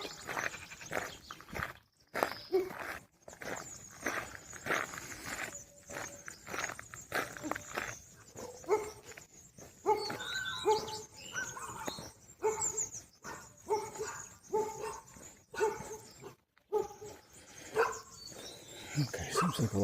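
Dogs bark on and off in the distance along a rural walking route in France, faint scattered woofs mixed with footsteps and rustling close by.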